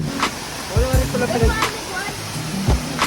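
Hulugan Falls roars up close as a steady, loud rush of falling water, with voices speaking over the broad wash.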